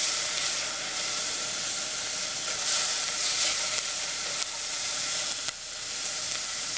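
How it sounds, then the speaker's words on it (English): Onions and garlic sizzle loudly in a hot pan for a tomato sauce, a steady bright crackling hiss that runs the whole time with small shifts as they're stirred. "So it's really, really sizzling."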